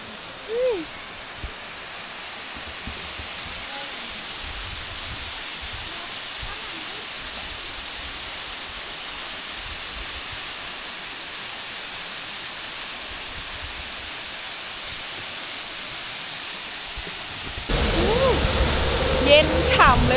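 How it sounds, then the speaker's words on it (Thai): Roadside waterfall on an Indonesian island, a steady broadband rush of falling water that holds constant throughout and grows louder and closer near the end. "ตอนขี่ลงมาคือแบบเห็นน้ำตกเลย สวยมาก"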